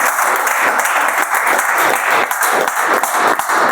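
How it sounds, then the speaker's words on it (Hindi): Dense, steady audience applause fills a short burst at a business plan presentation, with many hands clapping together at close range and no voices over it. "तो इनके लिए जबरदस्त ताली एक बार।"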